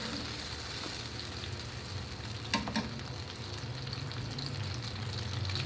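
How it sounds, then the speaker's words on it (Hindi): Onions frying in a pan for Pakistani aloo chicken salan, a steady close sizzle and crackle throughout with a couple of brief stirring clinks partway. "अनियंस को आपने बहुत ज़्यादा फ्राई नहीं करना"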